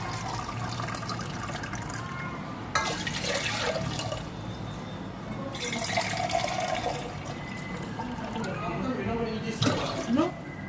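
Water being poured from a 500 ml cup into a pot while making cathedral window jelly, a steady liquid splashing and filling sound in bursts, with a person talking over it.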